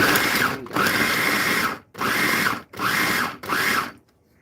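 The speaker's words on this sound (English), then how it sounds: "I turned it to chop, and this is a KitchenAid." A KitchenAid food chopper on its chop setting whirs loudly in four pulsed bursts, each about a second long with short gaps between them, ending in near silence.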